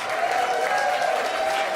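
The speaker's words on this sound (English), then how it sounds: "Let's give the choir another round of applause." An audience at a Unitarian Universalist assembly gives the choir a round of applause, a brief, loud, continuous burst of many hands clapping close and filling the room.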